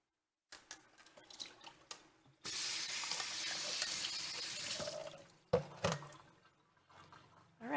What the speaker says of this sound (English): I'm just going to strain this water out and give them a quick rinse